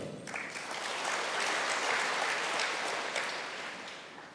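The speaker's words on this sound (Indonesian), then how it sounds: "Kita beri tepuk tangan kepada Tuhan." A church congregation claps together during a worship service, a dense sustained burst of applause that swells and fades over a few seconds with no talking.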